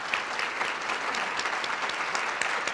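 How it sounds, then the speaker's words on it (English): A crowd at a grant announcement gives continuous applause for the grant recipients, with dense even clapping at moderate distance and no voices. "Let's give them a round of applause."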